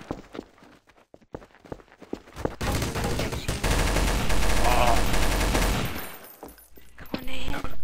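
Rapid bursts of game gunfire from Zombie Panic Source, played alongside Counter-Strike Source, open with scattered shots and build into a loud, sustained barrage before trailing off, with a voice speaking underneath.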